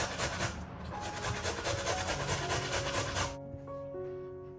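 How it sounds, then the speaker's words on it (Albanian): A peeled carrot is rubbed on a metal grater in quick, even rasping strokes, close and loud, stopping abruptly near the end to leave a faint background tone. "Më pas marrim një karrotë, të cilën e kam çoruar më parë dhe e grim rende."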